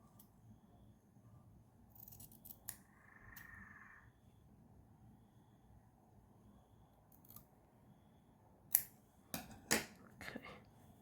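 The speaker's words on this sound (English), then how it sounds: "you can trim down a little bit more because you don't want it to be too bulky" Scissors trim the fabric edges of a stitched coaster in a few quiet, close snips. Sharp little cuts come in a short cluster near the end after a mostly hushed stretch, with no talking.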